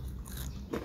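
A bite into crunchy coated peanuts (kacang disco), a snappy crunch near the mouth in a brief, quiet moment with no talking.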